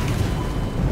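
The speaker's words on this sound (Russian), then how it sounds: "это вертолет так взрывается этот" A helicopter explodes in the Garry's Mod sandbox game as a short, loud, dense roaring rumble that fills the whole second without a break.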